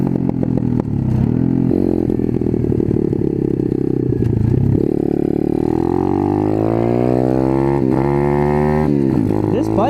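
Apollo RFZ pit/dirt bike engine close by and loud, revving up and down in rising and falling sweeps while riding, with rattly clatter mixed in.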